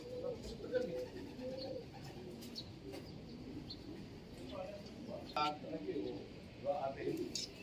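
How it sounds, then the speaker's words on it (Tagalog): A pigeon coos softly in the background amid low ambient noise, with a few faint chirpy calls breaking through. "Loko-loko to, tarantadong ibon natin."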